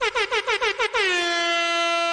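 Loud air horn sound effect: five short rapid blasts followed by one long sustained blare, alone with no talk.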